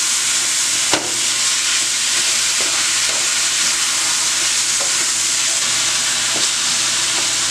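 Saltfish stirred into a sizzling pan for Bajan stew food, a steady loud frying hiss throughout with a few brief scraping knocks as the spoon moves.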